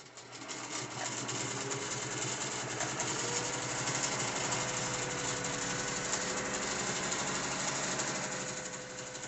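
A quilting sewing machine runs steadily on a Grace Mini quilt frame, a close, even mechanical hum and rapid stitching chatter that continues without a break.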